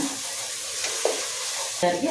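Masala with coriander powder frying in a pan for kushka rice, stirred with a spoon: a steady close sizzle broken by a few short scraping strokes.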